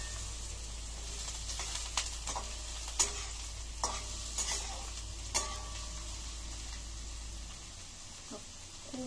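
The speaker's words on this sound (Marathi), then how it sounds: "मी फक्त परतायचं काम करणार आहे" Cabbage and vegetables are stir-fried in a pan for Schezwan fried rice, giving a soft, steady sizzle broken by intermittent scraping clicks of a spatula, close and fairly quiet, with a low hum that stops near the end.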